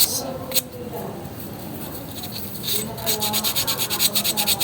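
Sandpaper is rubbed by hand over a CVT part from an Easyride FI 150 scooter, making close scratchy strokes that turn into a fast, even back-and-forth rhythm near the end, with a voice talking.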